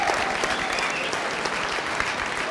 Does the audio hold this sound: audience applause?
yes